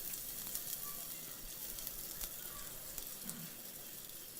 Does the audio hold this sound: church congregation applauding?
no